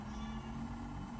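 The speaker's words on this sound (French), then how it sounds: "c'est le chat qui gratte à ma porte" A cat meows close by at a door, with a steady low hum and no clear scratching audible, in a short quiet indoor moment.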